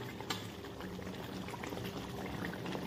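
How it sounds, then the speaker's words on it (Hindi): Pork curry boils in a pot, a steady bubbling with a low hiss and small pops, close and moderately quiet, with no talk. "थोड़ा सा उबलने दीजिए"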